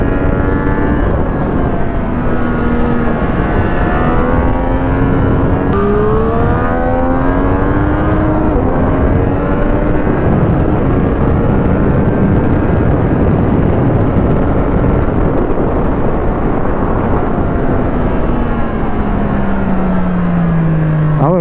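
A 2023 Triumph Street RS 765 motorcycle engine pulls hard through the gears on a track, its loud, close howl rising in pitch, dropping at a shift, then climbing steadily again for about twenty seconds.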